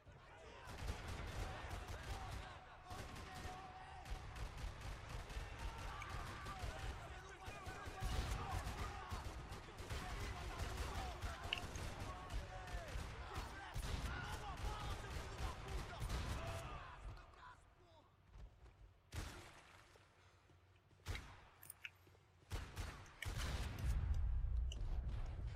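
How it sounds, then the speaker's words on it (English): Gunfire echoing across a parking lot in the Max Payne 3 video game, sustained bursts of shots and impacts with loud action mixed throughout, easing near the end. "Another parking lot rattling with gunfire."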